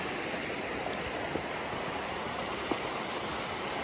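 A rain-swollen river in Capitol Reef National Park rushes steadily, a dense, loud, unbroken roar of flowing water with no voices.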